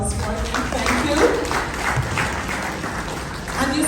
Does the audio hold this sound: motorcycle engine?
no